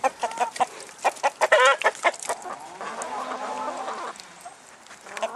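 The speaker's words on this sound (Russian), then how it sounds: "Ну, отдаю курям." Chickens on a farm cluck and call busily while pecking at guts and blood from slaughtered broiler chickens, a dense chorus of short, close, overlapping clucks with a few louder squawks, no talking.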